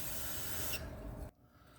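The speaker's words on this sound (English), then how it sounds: "I'll just use a can or two of brake clean, try and rinse this excess fluid off" A can of brake cleaner sprays in a loud, close, steady hiss while rinsing fluid off a 2003 Chevy power steering gear box, then cuts off abruptly.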